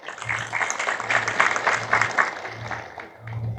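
A church congregation claps together during a Christmas sermon, a sustained wash of many hands at moderate loudness that swells and eases over a few seconds, with a low steady hum underneath.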